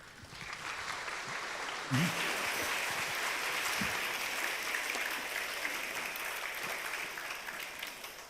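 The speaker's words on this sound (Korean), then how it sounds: "나오실 때 박수로 맞이하겠습니다." A church congregation applauds during a Sunday afternoon worship service, a steady sustained wash of clapping filling the room for several seconds with a brief louder bump partway through.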